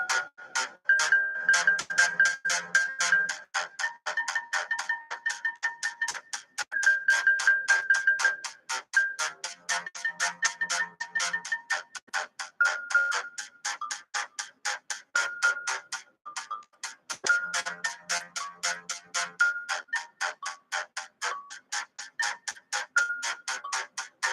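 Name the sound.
metronome ticking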